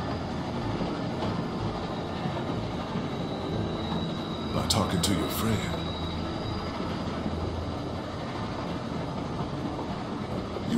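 A train runs on rails in The Walking Dead Season 1 Episode 3 video game, with a steady rumble and a brief high wheel squeal midway, while a voice speaks over it.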